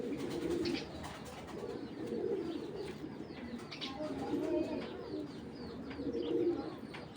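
Male Giribaz pigeons cooing in a loft, with repeated low throaty coos rising and falling over steady background bird chatter and faint distant voices.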